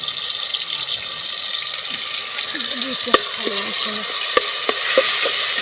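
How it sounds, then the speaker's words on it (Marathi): Ginger-garlic paste sizzles loudly and steadily in a hot pan while cooking a village-style curry, a dense close hiss with a few sharp clicks of stirring, and a voice murmurs faintly underneath. "आला लसूण पेस्ट टाकते"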